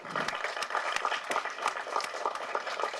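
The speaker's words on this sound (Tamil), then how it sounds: "பலத்த கரகோஷம் கொடுங்க அவருக்கு" Dense applause from a crowd that watched a film shoot and was fed by a man, steady and broad, with sharp claps throughout and no talk over it.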